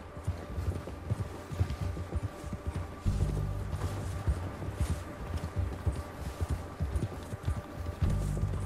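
Hooves of a horse galloping steadily in Red Dead Redemption 2, a continuous rapid clip-clop with game ambience and a deeper rumble swelling in at intervals, fairly close and prominent.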